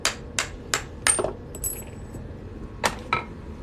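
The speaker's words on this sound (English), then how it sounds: "I'm going to use a different hammer to knock this out of here." Sharp metallic hammer strikes knocking a steel center punch out of a coin being made into a ring, about six distinct taps in an irregular rhythm, close and crisp, with a faint ringing tone after one hit.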